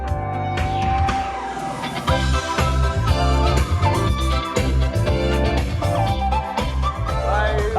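Loud music plays from the stereo speakers of a Ford Mustang Mach-E, a dense beat with heavy bass thumps pulsing steadily throughout, heard continuously without pause.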